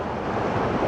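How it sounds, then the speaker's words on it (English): Waterfall near Riverlin Mill in the Riverlin Valley, a steady broadband rush of falling water, loud and continuous with no pauses. "this is the waterfall I'm now going to photograph for you"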